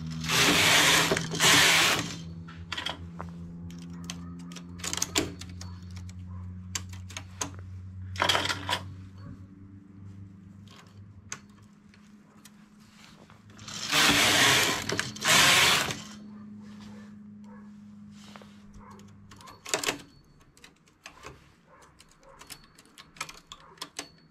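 A knitting machine carriage runs across the needle bed in several loud rasping passes, with bursts near the start, in the middle and toward the end, separated by quieter clicks and handling of the machine.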